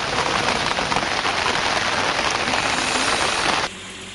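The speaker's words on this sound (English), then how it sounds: "the heavy rains also triggered floods in several areas from around the island" Heavy rain pours down in a dense, steady hiss of drops hitting surfaces, loud and close, with no talk, before it cuts off abruptly near the end, leaving only a low background.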